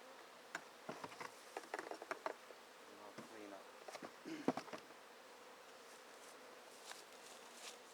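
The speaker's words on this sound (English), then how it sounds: "I just want to make sure that these bees are able to fly in and out of the entrance." Buzzing of honeybees flying close by at a hive entrance, brief droning passes with light ticks and taps, fairly quiet against a calm background.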